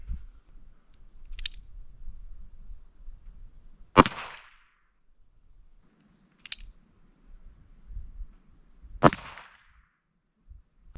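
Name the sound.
22 long rifle gunshot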